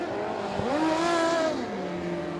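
A racing engine on a dirt speedway track revs up and holds a high, rising whine before tailing off, loud and fairly close, with no talking over it.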